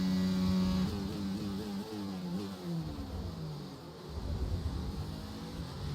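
A Ferrari Formula 1 car engine in F1 22 racing, a loud high-pitched whine that shifts up through gears with rising and falling revs, close and continuous.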